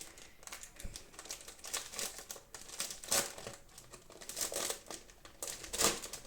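Packaging being unwrapped from a Ninjago Dragon Rising book, giving soft, irregular crinkling and rustling with occasional sharper crackles, close and fairly quiet, with no voices.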